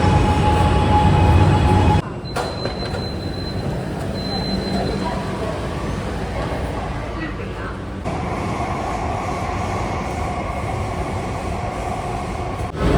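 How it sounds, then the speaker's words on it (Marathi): A Mumbai Aqua Line metro train pulls into an underground platform with a loud, continuous rumble and a thin tonal whine, while voices murmur nearby. "आपले मेट्रो आलेले मस्त एकदम राईट टायमाला"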